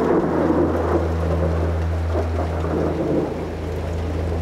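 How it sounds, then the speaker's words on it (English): A thunderstorm sound effect under a story reading: steady rain with a deep rolling rumble of thunder throughout, loud and continuous with no voices. "until one day there came an enormous storm"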